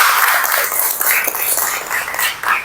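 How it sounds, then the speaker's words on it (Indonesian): Students in a classroom quiz clap together for a correct answer, a close, bright burst of applause lasting the whole moment. "Benar, tepuk tangan, applause"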